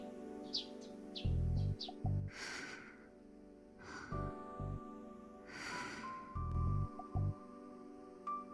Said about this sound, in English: I met the morning with the sound of chirping sparrows